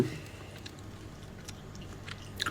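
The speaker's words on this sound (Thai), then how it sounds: "ปิดปากไว้อย่าให้เห็นอย่าให้เขาเห็นเคี้ยว" A child chews a snack close up, with soft wet mouth sounds over a steady low background and a few faint clicks.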